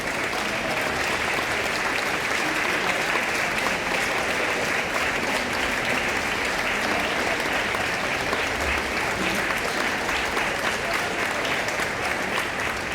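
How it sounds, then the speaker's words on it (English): A large concert crowd claps steadily at a get-out-the-vote rally show, a dense, continuous wash of applause lasting the whole stretch, loud and even with faint crowd murmur beneath. "stand up and clap along"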